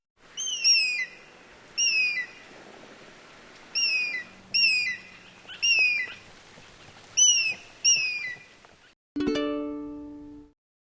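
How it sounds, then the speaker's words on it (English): A bird of prey gives a series of high, piercing whistled calls in separate bursts, each loud and close, followed near the end by a single sharp tonal screech that rings briefly. "Eagle."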